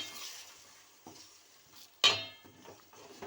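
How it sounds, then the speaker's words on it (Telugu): Beaten eggs are stirred and mixed in a hot pan for an egg fry. A utensil scrapes and knocks against the pan in a few separate strokes over a faint sizzle, and one sharp metallic clink stands out. "ఇప్పుడు ఎగ్స్ మొత్తం కలిపేస్తున్నాను"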